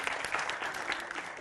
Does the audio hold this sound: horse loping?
no